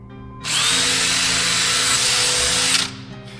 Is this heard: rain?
no